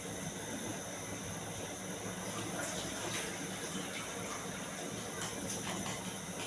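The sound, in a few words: water poured into cooking pot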